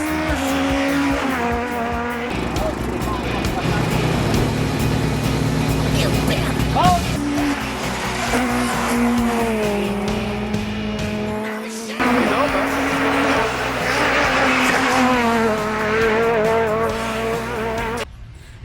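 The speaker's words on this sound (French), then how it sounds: "Elle est maniable, elle est vraiment fantastique comme voiture." A car being driven, its engine note rising and falling in steady drawn-out tones with brief squeals, running continuously and fairly loud throughout.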